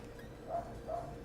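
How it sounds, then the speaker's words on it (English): Dogs barking in a neighboring apartment, two faint, muffled barks heard through the wall at a distance over a quiet room. "These freaking dogs, dude."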